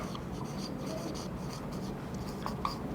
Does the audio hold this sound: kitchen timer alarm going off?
no